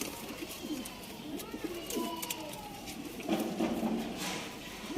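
Sialkoti pigeons cooing softly at close range, low rolling coos repeating through the stretch alongside faint rustling and scattered bird sounds.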